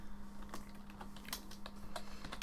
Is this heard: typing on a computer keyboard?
yes